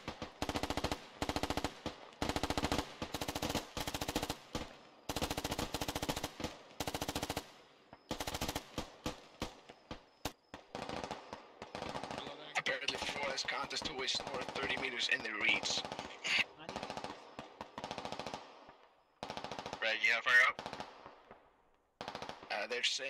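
Rapid machine-gun bursts and scattered gunshots in the tactical shooter game Squad during a night map, loud rattling volleys with pauses between them, and voices talking over the firing.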